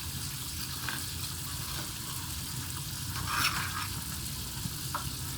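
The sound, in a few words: chicken frying in a pan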